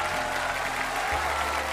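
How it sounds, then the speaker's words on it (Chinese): Studio audience at a televised Chinese variety show stage applauds steadily, a dense burst of clapping lasting the whole short moment under low stage hum. "掌声欢迎"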